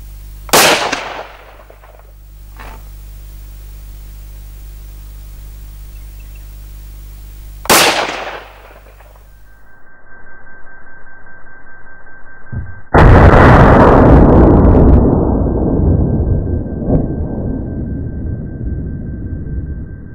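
Three loud rifle shots from 6.5 factory ammunition fired through different muzzle brakes on a Tikka rifle, each a sharp crack with a rolling outdoor echo, spaced several seconds apart, the last followed by a long reverberant rumble.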